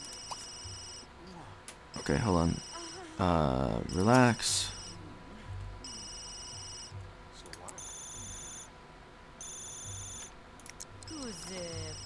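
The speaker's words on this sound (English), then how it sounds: "Okay, seriously, my freaking phone is pissing me off." A phone in The Sims 3 rings again and again, with bright, repeating tones that come in bursts under a person talking.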